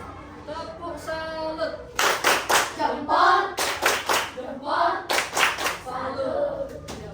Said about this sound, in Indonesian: Silakan kasih tepuk salut untuk temannya.